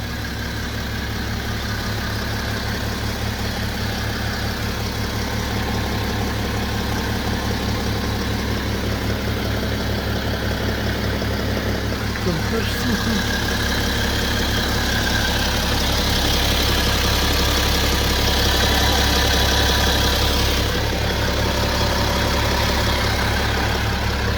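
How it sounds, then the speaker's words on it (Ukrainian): A BMW X5 E70 facelift 40d xDrive diesel, 225 kW, idling steadily: a low, even engine rumble with a constant throb and faint mechanical clatter, close and unchanging for over twenty seconds, with no talking. "Чуємо як двигун працює"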